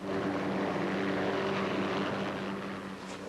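A steady, loud rotor and engine drone of a helicopter, holding constant throughout with a broad rushing noise.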